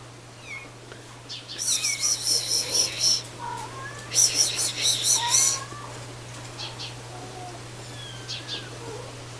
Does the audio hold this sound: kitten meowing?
yes